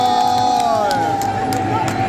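A large crowd of supporters cheers and shouts at a Thai boat race, a loud, continuous roar of massed voices with whoops, steady through the whole stretch.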